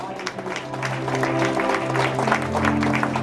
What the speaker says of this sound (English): Oh, somebody clap your hand.